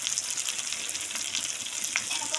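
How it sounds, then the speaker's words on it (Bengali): Goat meat frying in a pan gives a constant, close hiss of hot oil, crackling with small pops and spits throughout. "আমরা পাঁঠার মাংস রান্না করছি আজকে দুপুরে খাওয়া পাঁঠার মাংস"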